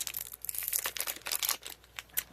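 Crinkly plastic packaging of a gummy treat packet being pulled and strained by hand in an attempt to rip it open, giving a rapid, irregular run of close crackles and rustles with no talking.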